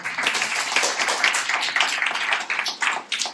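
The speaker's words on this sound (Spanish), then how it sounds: "Un aplauso al maestro ahí" An audience applauds a pianist, a steady wash of many hands clapping at moderate volume that holds throughout without voices.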